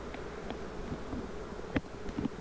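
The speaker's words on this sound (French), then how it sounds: "on voit bien les abeilles qui battent le rappel, elles cherchent une reine" A low, steady hum of many honeybees buzzing close by on hive frames as they call for a queen, with a few brief sharper accents rising out of the drone.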